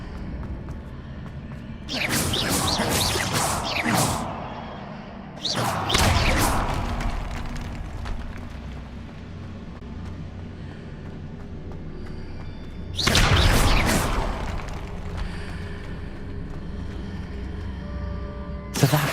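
Bursts of the Incendio fire spell in the Hogwarts Legacy video game: three loud whooshing, thudding blasts spaced apart, each flaring sharply and then fading, over a low mechanical game background.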